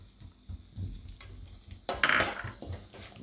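Coarse wheat flour roasts in ghee with carom seeds while a spoon stirs it in a pan, giving soft sizzling and intermittent scraping strokes, the loudest scrape coming in a burst partway through.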